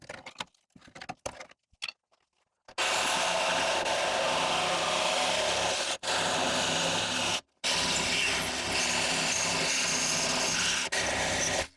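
A power tool grinds and drills out spot welds on the core support of a Ford Festiva car body. A few sharp clicks come first, then a loud, continuous metallic whine broken by two brief pauses.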